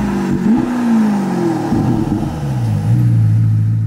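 Novitec-tuned Ferrari Portofino M engine revs loud and close, climbing sharply, dipping, then swelling again into a deep sustained drone, with no talking.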